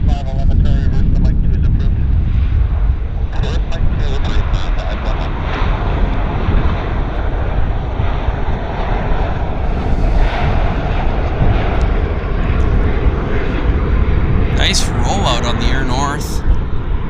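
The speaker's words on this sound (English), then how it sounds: "Short and stubby Boeing," A short, stubby vintage Boeing airliner at Vancouver airport, its loud jet roar steady and broad across the whole stretch with wind buffeting the microphone, and a few faint higher tones near the end.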